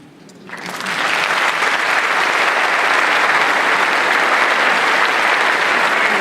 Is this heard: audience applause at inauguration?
yes